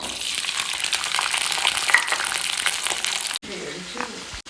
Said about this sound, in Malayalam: ചെറിയൊരു പീസ് സബോള എടുത്ത് അരിഞ്ഞിട്ടുണ്ട് ഇത് നമുക്ക് ഇതിലേക്കിട്ട് മൂപ്പിക്കാം